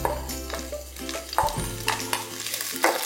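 Chopped onion hits a hot pan and sizzles under steady frying hiss, with several scraping stirs and light clinks of a utensil against the pan at irregular intervals.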